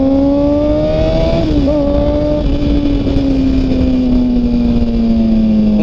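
Engine of a full-paper motorcycle, likely a stolen-bike model, rising in pitch as it speeds up, loud and close, with steady harmonic drone and wind rush throughout, no voices.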